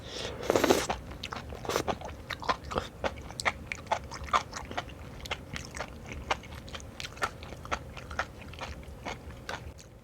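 Someone bites and chews a large serving of boiled enoki mushrooms coated in spicy gochujang sauce, with a loud crunchy bite near the start followed by steady, close, moist chewing and soft smacking clicks.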